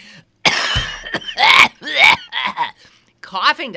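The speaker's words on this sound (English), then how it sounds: "Well, I know I'm coughing." A few rough throaty coughs and throat-clearing sounds in quick succession, close to the microphone, with short pauses between bursts.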